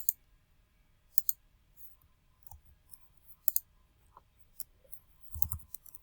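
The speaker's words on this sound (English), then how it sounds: "oops, didn't mean to click right there." Computer mouse clicks, a handful of sharp isolated taps spread irregularly across a quiet room, close and crisp, no talk.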